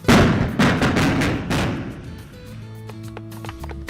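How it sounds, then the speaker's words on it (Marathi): Several sharp, heavy blasts from tunnel excavation for a Mumbai railway line boom in quick succession, each trailing off into rumbling echoes, followed by fainter mechanical clanks and tones. "टीबीएम मशीनऐवजी स्फोट घडवून बोगदा खोदण्यात आलाय"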